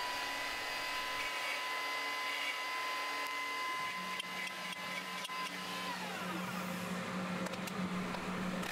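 Router-driven drill bit, 1/4-inch, boring horizontally into wooden sawhorse side pieces on a PantoRouter, a steady motor whine that shifts in pitch as the bit pecks into the wood, loud and close with no voices.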